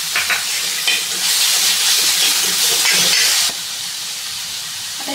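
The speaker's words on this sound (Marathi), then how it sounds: "आता हे टोमॅटो आपल्याला तेल सुटेपर्यंत व्यवस्थित परतून घ्यायचा आहे" Chopped tomatoes and onion, salted, sizzle and hiss loudly in hot oil in a pan. The frying is steady and close, swells for a few seconds with a burst of steam, then settles to a quieter sizzle.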